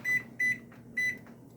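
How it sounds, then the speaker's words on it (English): An oven timer being set for 20 minutes while baking bread gives three short, clear electronic beeps at an even pace, close and alone. "now I set the timer for 20 minutes"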